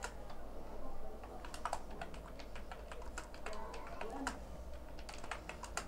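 Fingers tap steadily on a computer keyboard in irregular bursts of close, crisp clicks, with a faint room hum underneath and no talking.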